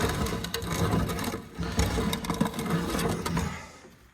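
An International 295 planter's seed plate turns in its hopper with a steady, close mechanical whir and rattle of fine repeated clicks. It holds at an even level for several seconds and then tapers off to silence.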